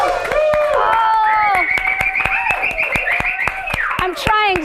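A talk-show host in Las Vegas claps along with studio audience applause: a steady run of quick, even claps beats through the whole stretch under a loud singing voice and music.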